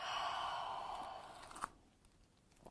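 A long, soft exhale during a gentle yoga forward fold, close and breathy, fading out over about a second and a half, followed by faint rustling movement.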